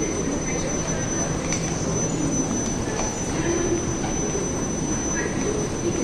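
A Malaysian MRT train hums steadily and loudly with a thin high whine and a constant rolling rumble, as if heard from inside a carriage or beside the platform.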